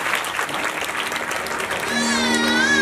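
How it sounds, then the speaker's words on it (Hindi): Audience applause at a religious discourse, a full roomy crowd clapping throughout, with a sustained musical tone entering over it toward the end. "एक बार जोरदार तालियों से अनुज के लिए स्वागत करेंगे।"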